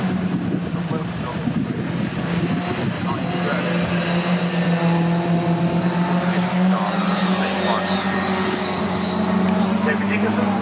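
Historic touring race cars lapping at Oulton Park during the Jack Sears Trophy race, a steady engine drone with shifting pitch under wind noise and commentary voices.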